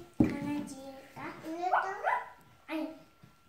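A small dog gives several short yips and barks at close range, spaced out with brief pauses, alongside a person speaking.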